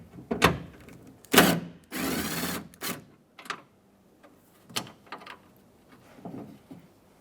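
Tool work on the door of a 2007-2015 Mazda CX-9 while a 10 millimeter nut is taken off: several short bursts of a power driver, one longer whir, and clicks and clatter spread over the clip, fairly close.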